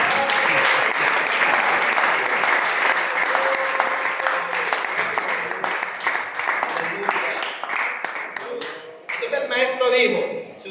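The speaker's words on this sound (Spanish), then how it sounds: "Aplausos para Dios" Congregation applauding during a church sermon, sustained loud clapping for most of the stretch, then fading, with a brief different sound at the end.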